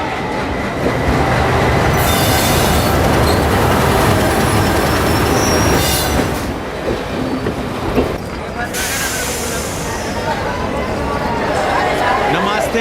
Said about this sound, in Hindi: दिल्ली से आने वाला अपर इंडिया एक्सप्रेस निर्धारित समय पर प्लेटफॉर्म नंबर 1 पर आ रहे थे